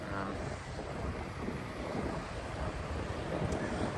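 Wind buffets an outdoor microphone beside a dog park, a continuous low rumbling roar at moderate level with gusty fluctuations and no clear voices.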